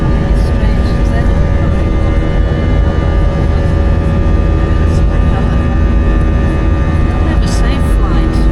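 Steady, loud airliner cabin drone on a flight from Buenos Aires to Ushuaia, a constant low engine rumble and hum filling the whole stretch with no breaks.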